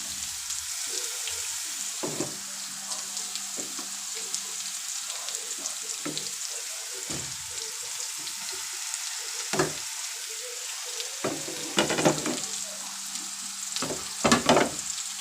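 Ridge gourd pieces frying in a spiced tempering, a steady soft sizzle with occasional clinks and stirring scrapes, louder bursts near the end, no one talking.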